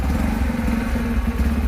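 A motorcycle engine runs with a steady, low, rumbling drone, loud and close throughout the short stretch, with no voices over it.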